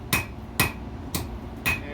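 Heavy hammer blows on a thick steel knife blade in a colonial-era blacksmith shop, four sharp ringing strikes spaced about half a second apart, close and loud with no talk.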